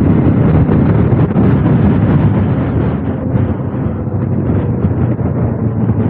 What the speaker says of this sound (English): it's windy, a little windy, makes it feel nice